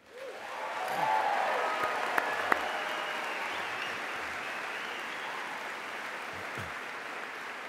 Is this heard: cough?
no